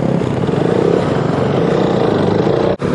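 A heavily loaded motorcycle engine drones steadily up close with wind and road rumble over gravelly road, then cuts out abruptly for a moment near the end.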